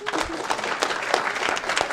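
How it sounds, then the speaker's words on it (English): A round of applause for award winners at an Aurora committee-of-the-whole meeting: dense, lively clapping from the room with a few louder individual claps standing out. "One more round of applause for Yahir and Taline."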